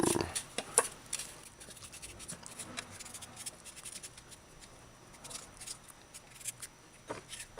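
A peeler scrapes the skin off a chayote in soft, irregular rasping strokes, close but faint, with small clicks and handling noises and no talk.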